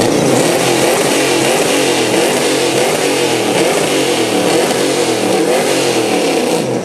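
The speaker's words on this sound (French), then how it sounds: "C'est parti pour la deuxième course de ce fabuleux pick-up C10. C'est un Chevrolet C10." A Chevrolet C10 pickup truck's engine revs hard at the start of a drag-style race, a loud, continuous, rumbling roar that holds steady throughout with no talk over it.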